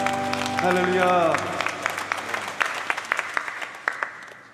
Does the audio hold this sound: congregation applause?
yes